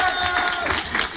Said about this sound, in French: Applaudissements pour Charlie.